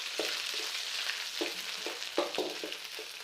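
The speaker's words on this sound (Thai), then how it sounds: "จะทำการนะผัดพริกเนาะผัดพริกแกงให้เข้าหอมๆเนาะ" Southern Thai curry chili paste stir-fried with pork belly in hot oil, a soft continuous sizzle broken by scraping and clacking strokes of a spatula against the pan, close up and fairly quiet.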